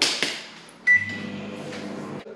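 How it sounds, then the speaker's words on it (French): A microwave oven heating a cookie pizza: a beep and door clunk, then a steady low hum of the running oven, fairly close and moderately loud. "C'est parti pour le micro-ondes."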